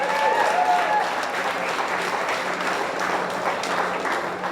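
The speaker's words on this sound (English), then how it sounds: "let's give a round of applause to all the artists" Audience applause for the artists at an art preview night, a dense, steady wash of many hands clapping throughout, close and fairly loud, with faint voices mixed in.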